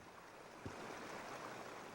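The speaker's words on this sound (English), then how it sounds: "Somebody left the tub running, it looks like." Bathtub tap left running in a spartan apartment bathroom in the video game Raw Danger, a steady broadband rush of flowing water filling the whole clip at low level, with one brief soft knock near the start.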